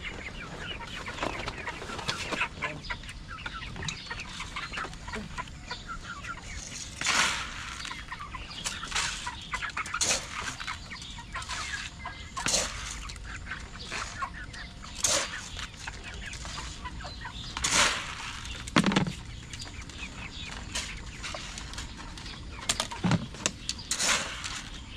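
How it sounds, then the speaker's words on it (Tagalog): Backyard chickens being fed outdoors cluck and squawk steadily, with repeated bursts of wing flapping and scuffling scattered across the scene, fairly close and without talk. "ilalagyan muna natin ng pagkain tong mga to, itong mga manok dito"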